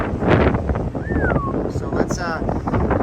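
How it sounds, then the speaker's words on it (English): Strong gusting wind in a Las Vegas dust storm roars steadily into the microphone, loud and close throughout, with a brief high whistle partway through. "it is very windy out here"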